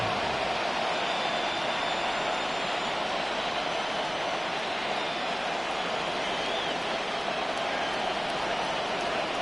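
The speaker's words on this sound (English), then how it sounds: "rain starting to fall." Rain begins falling during an NFL game between the Vikings and Buccaneers, a steady broadband hiss of drops layered over a constant stadium crowd roar, with no pauses or distinct impacts.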